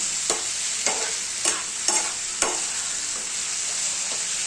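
Tomatoes cook down in a pan for chutney, a steady soft sizzle running underneath while a utensil scrapes through them about five times at an even, unhurried pace.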